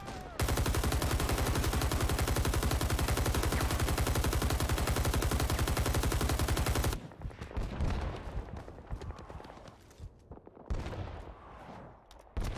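Rising Storm 2 Vietnam firefight: a long, loud, unbroken burst of rapid automatic fire up close, then scattered shots and bangs with some quieter gaps.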